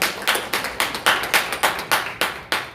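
A church congregation applauding during a Sunday worship service, rhythmic group clapping in about ten even pulses, loud and close, with no talk over it.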